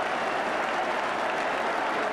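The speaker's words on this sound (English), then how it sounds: "Great applause all around Highbury." Football fans at Highbury clap and cheer after a goal in a 1981-82 Arsenal v Ipswich Town match, a brief, steady burst of distant crowd applause.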